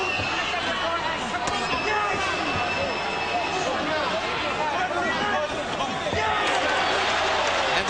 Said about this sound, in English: And the crowd cheers mightily